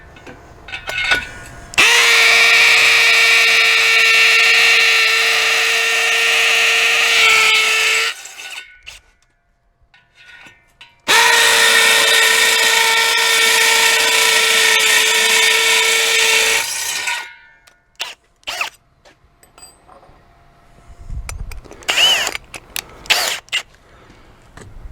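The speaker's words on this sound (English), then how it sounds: "Drive the star bolt straight in." A power driver sets a star bolt into a wooden post in two long, loud, steady whirring bursts of several seconds each. Brief clatter and handling noises follow.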